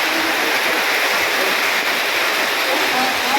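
Heavy rain pours in Saudi Arabia, a dense, even hiss of falling water with no letup, loud and close throughout.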